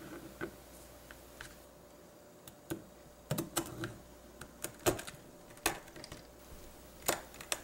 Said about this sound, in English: I'm going to try to cut this into chunks.